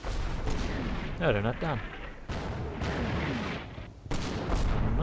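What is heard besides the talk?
mortar shell explosions in video game Combat Mission: Battle for Normandy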